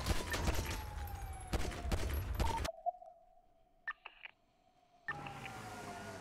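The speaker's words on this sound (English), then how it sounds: "They're shooting me still." Gunfire in the NoPixel role-play video game comes as a burst of rapid, loud shots over about two and a half seconds, then near silence with a few faint clicks before more noise returns.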